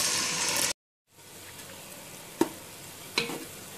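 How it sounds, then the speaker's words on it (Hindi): Onions frying in hot oil as a base for chops curry with potatoes, a soft steady sizzle close by after a brief silent gap, with a couple of sharp stirring clicks; no voices. "आयल को थोड़ा सा गर्म करने के बाद इसके अंदर मैं प्याज डाल दूंगी और उसको लाइट ब्राउन होने"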